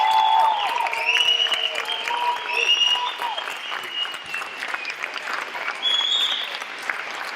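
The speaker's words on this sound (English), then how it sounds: "Let's give one more round of applause for all our future graduates." A crowd applauds future graduates at a 2019 community education graduation celebration, with steady clapping running throughout while voices and cheers ring out over it.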